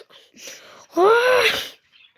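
An animal yawns in a long, drawn-out rising and falling wheezy whine, close and fairly loud, preceded by softer breathy sounds and followed by quiet.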